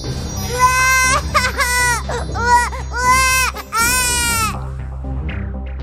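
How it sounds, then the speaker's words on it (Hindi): A baby girl cries loudly and continuously in close, wailing bursts with short gasping breaks, dominating the sound throughout. "पालने में रखते ही बच्ची जोर जोर से रोने लगी।"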